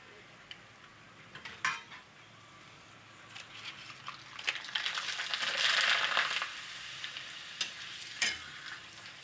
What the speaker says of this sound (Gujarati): તો થોડાક આપણે તળી લેવું.